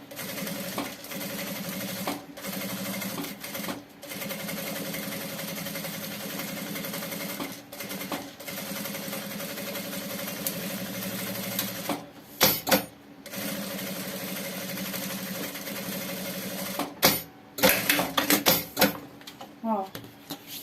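A sewing machine stitches the lining of a backpack in long steady runs, pausing briefly several times. Its hum stays moderate, with a few clicks and handling sounds toward the end.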